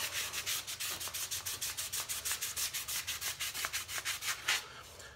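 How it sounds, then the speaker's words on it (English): Rhythmic back-and-forth strokes of hand sanding along the edge of a wooden split bowl, using 180-grit paper to bring it flush with the outer lip. The even, close scratchy swishes repeat about four per second. "And then I'm sanding it down flush to the outside lip of the bowl."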